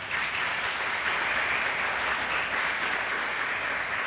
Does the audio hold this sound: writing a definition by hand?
no